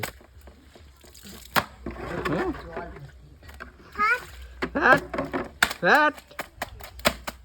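Wet clothes slapped hard against a surface during hand washing, a run of irregular loud thwacks and splashes up close, with people talking over and between the blows.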